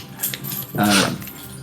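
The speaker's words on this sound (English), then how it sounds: "Sorry, the dogs have the zoomies and it's very funny." Dogs tear around indoors with the zoomies, collar tags jangling and claws clattering, with a short whiny yelp in the middle of a brief burst of commotion near the microphone.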